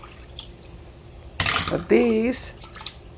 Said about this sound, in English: So I'm going to take all these over here and put them in that water to stop the process.